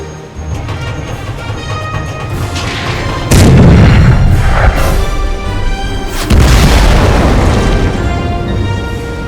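A cartoon tank cannon fires shells: two heavy, booming blasts a few seconds apart, each a loud sudden thud that rolls off into a long echoing rumble over a steady mechanical drone.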